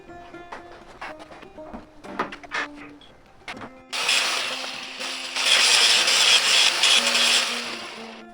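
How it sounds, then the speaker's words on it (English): A grinder bites into a steel washer on a Chevy 350 small-block alternator bracket, starting after a few light metallic clicks and handling sounds, then a sustained, loud, harsh grinding whine that swells and holds close up. "grinding off, just about a 1/16 of an inch of that washer there"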